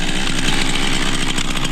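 A chainsaw balanced on a man's chin runs steadily at high revs, a loud, continuous buzzing drone heard close up and alone.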